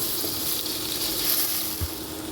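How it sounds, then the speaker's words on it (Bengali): Paneer cubes frying in ghee in a kadhai give a steady, close hiss of sizzling that runs unbroken throughout, with a faint low bump of stirring near the end. "পনিরটা আমি ঘি দিয়ে ভাজলাম"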